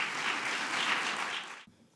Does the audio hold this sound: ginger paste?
no